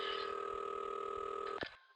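A telephone line in an old house hums with a steady tone for about a second and a half before a sharp click cuts it off, followed by a fainter tone.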